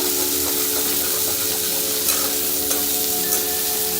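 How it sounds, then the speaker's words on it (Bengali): Chopped onion, ginger and garlic fry in a hot pan, a loud steady sizzle broken by the scrape and clatter of stirring, with no talk. "খুব ভালো করে ভেজে নেব"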